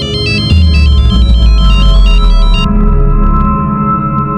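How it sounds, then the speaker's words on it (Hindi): A loud, close mobile phone ringtone plays a bright repeating electronic melody over a sustained tone, then the melody drops out while the steady tone continues. "ये मीनल को किसका फोन आ गया?"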